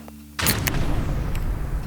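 An underground steam-driven volcanic explosion at Hole in the Ground in Central Oregon is rendered as a boom sound effect: one sudden, loud blast after a quiet hum, followed by a sustained rolling rumble.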